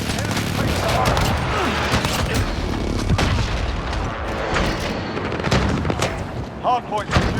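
Heavy booms and rattling gunfire from a precision airstrike during a Hardpoint match on the Shipment map in Modern Warfare, dense and continuous throughout with an announcer's voice over the barrage.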